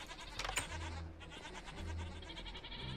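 Goats in the Minecraft game give several short bleats, fairly close and moderately loud, with no talk over them and a low game hum underneath.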